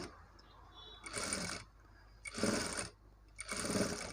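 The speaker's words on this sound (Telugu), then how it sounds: "చూడండి నెక్ చుట్టూరా ఇలానే స్టిచ్ చేసుకుంటూ వెళ్ళాలి" A sewing machine stitches around a blouse neckline with a border, running in three separate whirring bursts with short quiet pauses between them.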